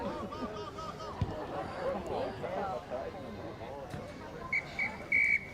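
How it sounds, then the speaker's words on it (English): A referee's whistle sounds at an under-16 rugby match, with short shrill blasts near the end that rise over the ongoing crowd chatter and a commentator's voice. "Whistle blown by Rob Leach."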